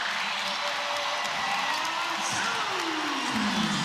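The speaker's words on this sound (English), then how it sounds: "You hear the excitement of this crowd anytime it goes through for Hahn" WNBA basketball arena crowd erupting after a made three-pointer, a broad roar of cheering and applause with whoops rising toward the end, while a commentator talks over it.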